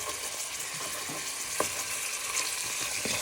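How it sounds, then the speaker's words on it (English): Pork pieces frying in oil with a continuous crackling sizzle, a wooden spoon breaking them apart with soft knocks and scrapes now and then, close and without speech. "So you're just breaking them apart with your wooden spoon."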